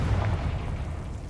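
A Confringo blasting spell explodes in Hogwarts Legacy, a dull low boom that rumbles and decays steadily over about a second with no voices.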